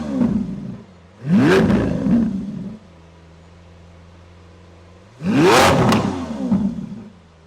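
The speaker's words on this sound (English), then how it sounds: "We're going to do a quick sound check, one blast. I'm sure you've heard a lot of the V12 just from us driving there." A Lamborghini Aventador S V12 engine gives two loud, rising revs, each blast climbing sharply then dropping back to a steady idle that hums between them, heard close up outdoors.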